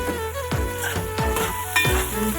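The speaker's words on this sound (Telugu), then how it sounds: "బాగా కలుపుతూ ఉండాలి అది ఆయిల్లోనే మొత్తం ఫ్రై అవ్వాలి" Bottle gourd and tomato pieces sizzle in hot oil in a pan while being stirred, with a steady fry under repeated scraping strokes of the spoon.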